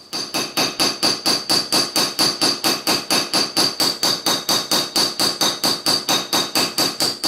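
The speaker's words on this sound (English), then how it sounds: "I'm going to hammer texture my sterling silver and go from there." A hammer strikes sterling silver over and over in a fast, even rhythm, each sharp metallic tap close and loud, with no pause across the whole stretch.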